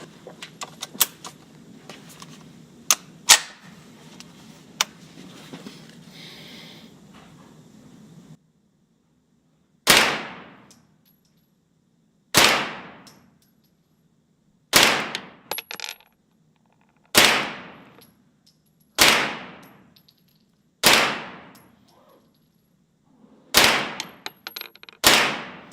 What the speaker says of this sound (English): I'm going to go ahead and load and charge it, shoot a few more rounds at a little bit longer distance